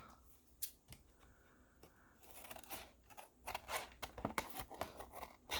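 Scissors cut through a paper tag made from collaged food-packaging scraps, giving a series of crisp snips and rustling paper scrapes that grow busier in the second half, with no talking.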